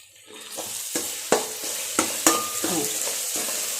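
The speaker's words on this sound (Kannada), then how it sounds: "ಎಲ್ಲ ಫ್ರೈ ಮಾಡ್ಕೊತಾ ಇದ್ದೀನಿ" Ingredients for soya rice bath fry in a pan with a steady, close sizzle, broken by spoon scrapes and taps roughly every half second.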